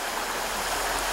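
Rushing water of a river and creek heard from across the bank on a rural property, a dense, steady hiss of flow with no speech and no change in level.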